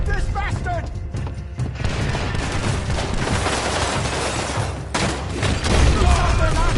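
Dense bursts of gunfire in the Red Dead Redemption 2 video game, with overlapping shots crackling and booming almost without pause under a loud, busy mix that includes voices.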